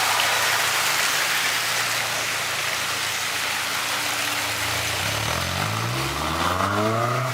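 A right-hand-drive Honda S2000 Type V pulls away under a steady broadband wash like rain, its engine note rising in pitch as it accelerates near the end.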